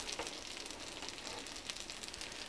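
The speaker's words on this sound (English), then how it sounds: "Let them fry on the other side." Shrimp and crab rangoon frying in oil after being turned over, a soft, even hiss of bubbling oil, faint and steady throughout with no voices.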